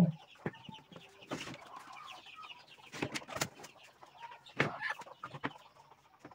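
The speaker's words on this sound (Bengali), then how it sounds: "এই যে দেখেন মুরগিগুলো বের হচ্ছে।" Chickens leaving their coop on a farm in the morning cluck faintly and intermittently, with scattered soft bumps and flutters around them, quiet and close.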